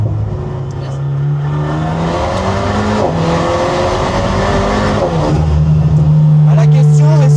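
A turbocharged Alpine A110 Schirmer GT engine pulls hard and climbs in pitch, loud and close, with the rising whine of a turbo spooling under the roar.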